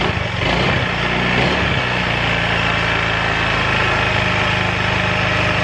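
An automatic scooter with a rough-running, stalling engine catches after the ignition is switched on, then settles into a loud, steady idle close by.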